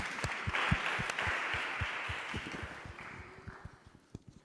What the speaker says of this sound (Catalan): es mereixen un fort aplaudiment